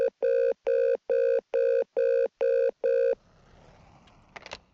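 Eight evenly spaced bursts of an electronic telephone ring sound inside a horror video game about being left home alone, loud and clear, then stop abruptly, leaving faint room noise and a brief clatter.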